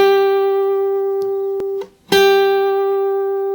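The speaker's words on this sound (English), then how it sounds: "Now, the other way is moving your finger side to side" A single sustained electric guitar note held on the second string, wavering as the fretting finger shakes side to side, ringing alone close up with a brief dip and re-pick midway.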